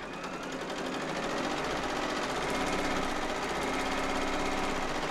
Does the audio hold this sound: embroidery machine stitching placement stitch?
yes